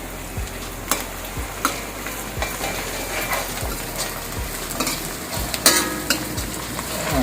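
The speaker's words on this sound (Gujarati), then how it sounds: "જ્યાં સુધી બ્રાઉન કલર ન થાય કાંદાનો ત્યાં સુધી આપણે આમને શેકવાનું રહેશે ધીમા તાપે" Chopped onions sizzle in hot oil over low heat in a continuous close crackle, punctuated by regular scraping strokes of a spoon stirring the pan, with no voices.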